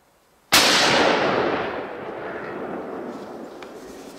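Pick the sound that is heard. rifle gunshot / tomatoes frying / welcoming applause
rifle gunshot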